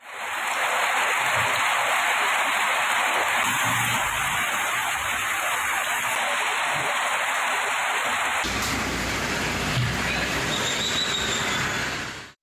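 Heavy, unbroken rain pours down on flooded roads in Ongole, Andhra Pradesh, a dense and loud steady hiss that shifts slightly in tone partway through, with no voices.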